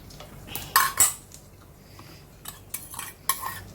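A spoon stirs and scrapes rava payasam in a pan, giving a few sharp metallic clinks and scrapes in short bursts with quiet pauses between.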